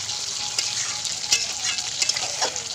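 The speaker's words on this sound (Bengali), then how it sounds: "মশলা কষানো হয়ে যাওয়ার পরে চিকেন দিয়ে দিচ্ছি চিকেন দিয়ে নাড়াচাড়া করে" Chicken pieces fry in spiced masala as they are stirred, a close, steady sizzle broken by several scraping and clattering strokes of a spoon, with no talk.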